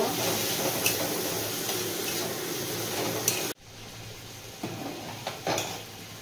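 Vegetable khichdi with added sugar being stirred in a pot: continuous wet scraping and soft sizzling, with a sudden drop in level midway and a few light knocks of the spoon afterward.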